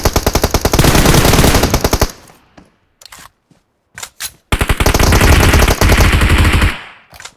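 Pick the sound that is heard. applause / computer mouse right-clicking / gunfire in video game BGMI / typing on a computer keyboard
gunfire in video game BGMI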